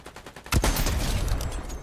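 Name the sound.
sniper rifle gunshots in Fortnite video game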